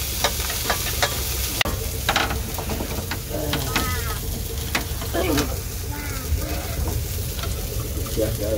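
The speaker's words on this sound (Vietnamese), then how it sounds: "Bánh xèo là đổ vô nó phải kêu xèo xèo quá." Bánh xèo batter with shrimp sizzles steadily in a hot pan on a fishing boat. The loud, continuous frying crackle is broken by clinks and scraping, with some faint background noise.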